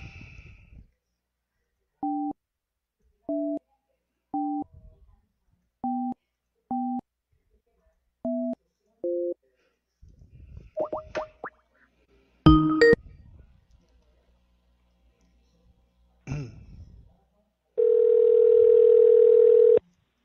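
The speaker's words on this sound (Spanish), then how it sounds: "estamos marcando ya el celular de Vinicio Espinal" A mobile phone call being placed: a series of evenly spaced ringback tones, then brief handling noise, and a long steady tone at the end, close and clear.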